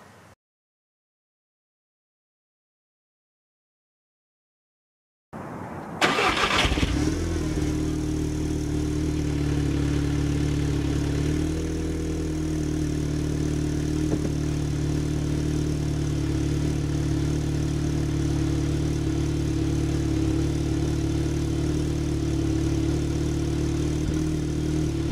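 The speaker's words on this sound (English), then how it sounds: "I can tell you the downpipe sounds amazing with the Dinan exhaust." An Audi S3 engine fitted with a USP catted downpipe and a Dinan exhaust fires up after several seconds of silence, then settles into a steady, deep, close idle that drones on to the end.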